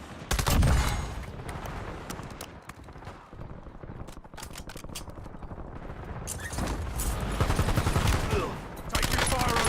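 Gunfire in a military shooter game, with bursts of automatic fire and sharp single shots coming in clusters, loud and close, easing off in the middle before heavy firing resumes, as faint voices talk underneath.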